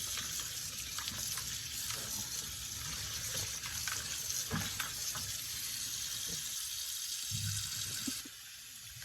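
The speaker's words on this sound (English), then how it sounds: "We want to rinse them a couple times until that water is clear." Tap water runs steadily into a sink while cut potatoes are rinsed for fries, a continuous hissing gush broken by small splashes and clinks before the flow drops off near the end.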